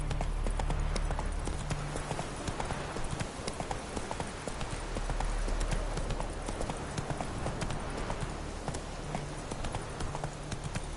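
Hoofbeats of Roach, a horse in a video game, gallop in a steady rapid clip-clop for the whole stretch, loud and continuous over a dense game soundscape, with no one speaking.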